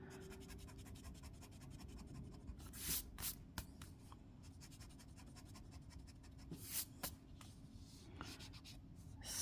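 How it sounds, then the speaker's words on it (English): A pencil eraser rubs across paper on a tea cup drawing, quiet scratchy strokes in a few short bursts against a soft, steady room hum. "Let's erase some of it then."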